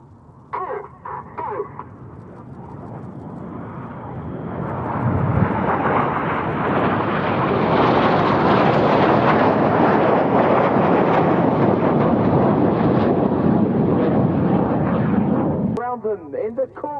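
Red Arrows jets flying a display at the RAF Cosford Airshow, a roar that builds into a loud, sustained broadband rush lasting many seconds before cutting off, with a commentator's voice briefly at the start and end.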